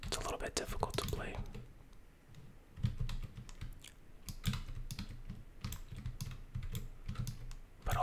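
Computer keyboard keys and buttons clatter in quick, irregular bursts during gameplay. The clicks are close and fairly quiet, with a soft voice speaking in between.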